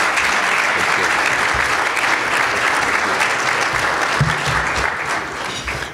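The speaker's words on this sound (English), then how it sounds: "Let's give our city manager a rousing applause" A large crowd gives a rousing round of applause for a city manager at a business address, dense steady clapping that stays loud and fades slightly at the end.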